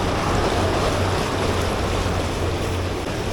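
Rough water churns and washes in a steady, loud broadband rush with a low rumble and wind underneath, and no talk.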